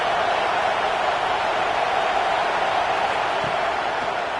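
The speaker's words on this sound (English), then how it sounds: "And here comes the noise. This crowd is trying to inspire this defense to make a big red zone stop." Stadium crowd noise from the College Football 26 video game during a Penn State vs Oregon simulation: a dense, constant roar of many voices that stays level and unbroken from start to finish.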